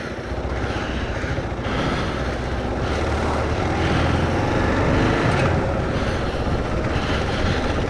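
Motorcycle riding up a badly corrugated gravel road in rural New Zealand, a steady broadband engine and road rumble with wind noise, loud and continuous throughout.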